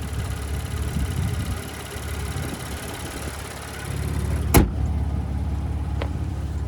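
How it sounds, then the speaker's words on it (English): The 3-liter twin-turbo V6 of a 2025 Ford Ranger Raptor runs at a steady idle close by, its low rumble swelling slightly before a sharp click and a quieter tick. "So there's that 3-liter twin turbocharged V6."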